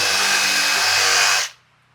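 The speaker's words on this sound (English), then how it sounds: "give it the little pre-drill" A power drill pre-drills a pilot hole in wood during skate ramp building, a loud steady whirring motor that runs alone for about a second and a half and then cuts off abruptly.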